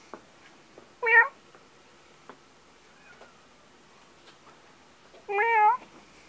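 Kitten at a humane society shelter giving two clear, close meows about four seconds apart, with quiet room noise and small clicks in between.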